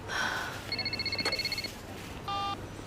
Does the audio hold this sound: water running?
no